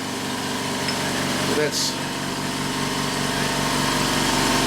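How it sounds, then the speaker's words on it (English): An air compressor cuts in and runs in a machining workshop, a steady mechanical hum with a faint whirring tone, while someone briefly speaks over it. "And of course the air compressor cuts in."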